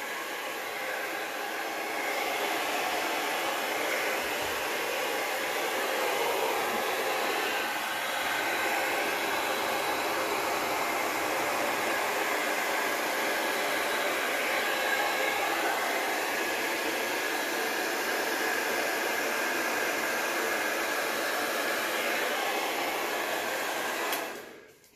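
A hair dryer blows with a steady, loud rushing hiss for the whole stretch, then cuts off abruptly at the end.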